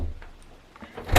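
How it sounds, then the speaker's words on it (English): A bathroom door swings shut, ending in a single loud, close thud after a quiet stretch with a few faint knocks. "close the door"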